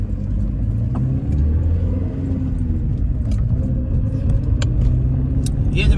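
A car drives along with a steady, close engine rumble and road noise, joined by faint keys jangling and occasional light rattles, and a person speaks briefly inside.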